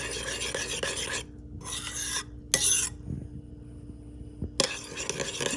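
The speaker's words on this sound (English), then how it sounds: "So let me stir this real good." A soy sauce mixture for mushroom soup pork chops is stirred in a bowl, giving close rasping, scraping strokes in bursts separated by short quiet gaps.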